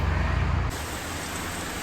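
Heavy rain pouring down outdoors, a dense steady hiss with a low rumble at first that drops away, leaving a continuous broadband wash.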